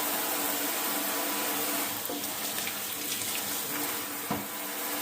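Water sprays steadily from a tap to rinse removable air purifier parts in a sink, a continuous close hiss with small splashes and knocks near the end.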